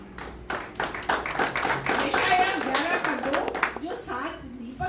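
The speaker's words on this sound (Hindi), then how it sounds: "जोर से ताली बजाइए" A church congregation claps loudly in quick, irregular bursts during a worship service, the applause building and mixing with a preacher's voice talking over it.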